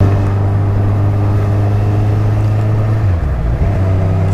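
A 2016 Kawasaki Z1000 motorcycle engine hums loud and steady while riding, a constant low drone that dips briefly near the end as the revs shift.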